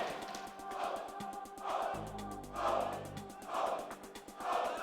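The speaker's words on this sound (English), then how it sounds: "The crowd's starting to get jacked up again." Esports arena crowd at a Rocket League RLCS Winter Split Major 2023 match in San Diego, KCorp vs FaZe, cheering in rhythmic swells that rise and fall roughly every second over a steady loud backdrop.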